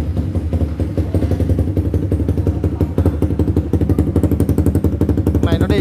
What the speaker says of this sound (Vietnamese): Này nó đi Cabo Yoshimura biển số 68. Nên nổ rất là to.